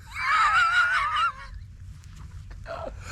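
Chickens squabble loudly as a rooster guards food from another rooster, with a harsh wavering screech up close for over a second, followed by quieter scattered clucks and squawks.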